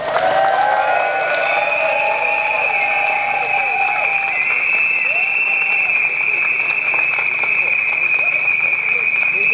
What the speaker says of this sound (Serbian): I hoću jedan veliki aplauz vas za vas.